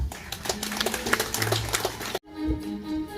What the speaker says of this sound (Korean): 뜨거운 박수로 맞이해 주시면 감사하겠습니다.